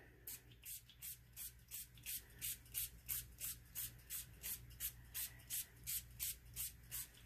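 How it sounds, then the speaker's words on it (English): Quick repeated squirts from a spray bottle, a steady rhythmic hiss of about twenty short bursts, soft and close. "We'll give it a spray."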